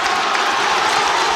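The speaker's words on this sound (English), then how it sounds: "Listen to the crowd." A packed football stadium crowd roars continuously at an AFL match between Adelaide and Collingwood, a dense, steady wall of cheering and noise in the tense final minute of a close game, loud and sustained throughout.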